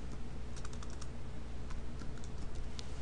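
Quick bursts of keystrokes on a computer keyboard while typing a layer name, close and clear over a steady background hiss.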